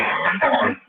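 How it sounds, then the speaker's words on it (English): A person coughs and clears their throat once in the background of a 1990 Seattle versus Georgia football broadcast, in a rough, fairly loud burst about a second long. "Somebody's coughing up a lung back there"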